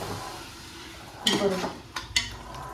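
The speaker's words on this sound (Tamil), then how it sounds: "இப்போ பார்த்தீங்கன்னா ப்ரான் நல்லா வதங்கிருச்சு" Prawns sautéing in oil for prawn biryani, a faint steady sizzle with a few brief stirring scrapes and clinks of a utensil against the pan partway through.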